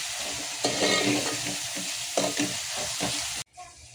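Chopped tomato is stir-fried in a hot pan, making a loud sizzle with repeated scraping stirs, and the sound cuts off sharply near the end.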